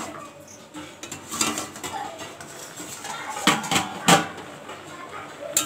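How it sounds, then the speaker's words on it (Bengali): Metal lid lifted off a cooking pot of simmering Malabar spinach with chilli, a few clinking scrapes and two sharp clanks standing out above a steady background hiss. "দেখো এবার ঢাকনাটা আমি খুলে নিচ্ছি"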